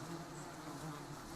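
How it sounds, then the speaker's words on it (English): A swarm of honeybees buzzing steadily in a dense, continuous drone, moderately loud and unbroken, with no voices. "Bees are a superorganism where good communication is key."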